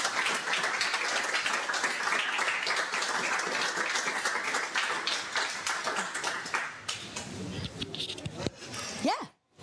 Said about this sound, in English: Please, everyone, give my co-presenters a wonderful round of applause.